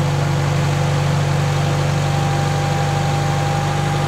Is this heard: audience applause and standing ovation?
no